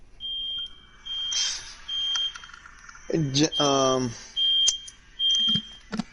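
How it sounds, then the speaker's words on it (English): A fire or smoke alarm chirps in a steady series of short, high electronic beeps, repeating roughly every second; a person speaks over it partway through, while the beeping stays prominent. "That fire alarm's about to annoy me."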